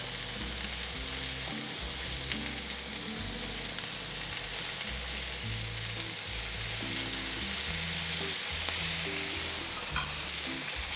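Steaks searing in ghee give off a steady, fairly quiet sizzle that holds evenly throughout, with a few faint crackles and no voices.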